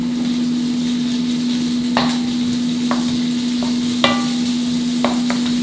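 Onion and ginger frying in a wok for Singapore vermicelli: a steady, loud sizzle under a constant low hum, broken by a few sharp scraping stir strokes and clicks, with no talking.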